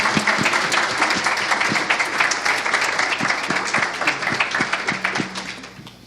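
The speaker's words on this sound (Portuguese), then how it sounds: "Uma salva de aplausos." A room full of people breaks into applause at an opening event, individual claps sharply audible and dense, fading away toward the end.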